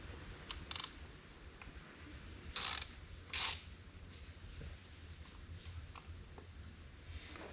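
Hand tool working on screws on a carburetor in a garage, brief ratcheting clicks and short metallic bursts between quiet pauses, close by.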